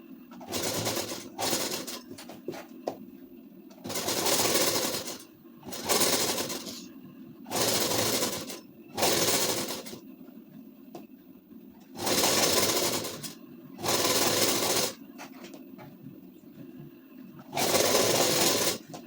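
A sewing machine stitches a ladies suit, running in repeated bursts of a few seconds separated by short pauses as fabric and lace are repositioned, close and fairly loud with faint cooing birds in the background.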